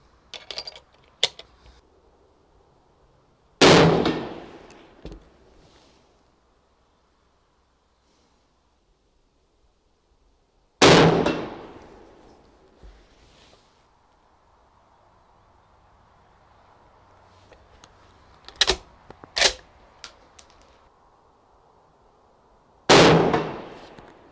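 Five sharp, loud rifle shots fired with TOPSHOT ammunition, each a sudden crack with a short decaying tail, spaced irregularly over about twenty seconds with near silence between some of them.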